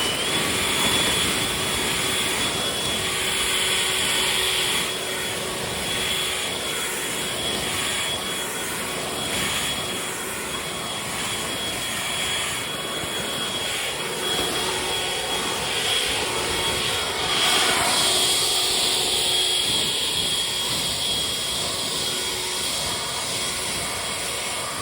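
A Greenworks 80V cordless leaf blower runs steadily at close range with a loud, continuous broadband whoosh and a high-pitched whine, first at normal power and then in turbo mode, with no talk.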